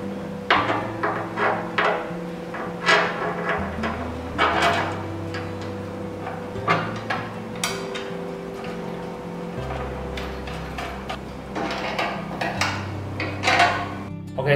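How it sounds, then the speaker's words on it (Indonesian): A wrench clicks and clanks while bolts are tightened on a W600i SE coffee roaster machine, with repeated metallic ratcheting taps over a steady low machine hum. "untuk step pertama kita akan pasang baut pengikat ke mesinnya, yaitu kita butuh kunci"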